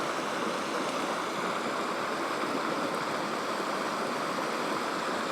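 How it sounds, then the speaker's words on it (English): Steady rushing water of Lost Horse Creek, a mountain creek in Banff National Park, a continuous broadband roar with no breaks, close and fairly loud, no voices. "Well, this is definitely the Lost Horse Creek"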